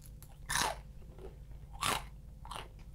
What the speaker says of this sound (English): Here we go, this is a nice crunchy one. You hear that crunch? I hear that crunch.